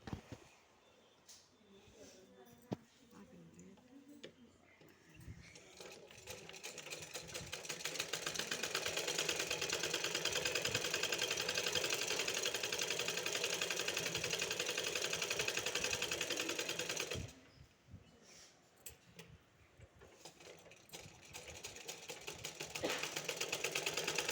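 An electric sewing machine stitches a garment's neck piece, starting quietly with brief bursts, then whirring steadily and loud for about ten seconds before pausing and resuming, with a voice talking during the quieter stretches.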